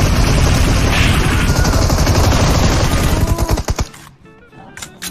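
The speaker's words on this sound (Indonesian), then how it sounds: "Yo, ada tembakan bang." Dense rapid gunfire in PUBG Mobile crackles loudly and continuously, then breaks into a few separate shots before trailing off.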